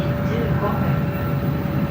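A Shinkansen bullet train rumbles low and steady beside the platform at Nagano Station, with a faint electrical hum, while someone talks over it.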